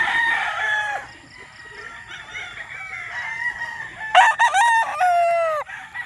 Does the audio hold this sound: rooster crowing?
yes